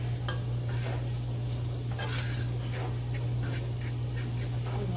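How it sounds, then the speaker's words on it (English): Chicken Alfredo ingredients sauteing in a pan, with steady stirring and scraping and light clinks of utensil against cookware over a constant low hum, no talking. "Let that saute."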